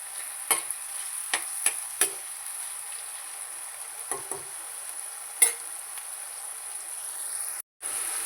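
Onions fry softly in a pan for Kerala-style chicken thoran, a steady faint sizzle broken by several sharp scrapes and clinks of stirring.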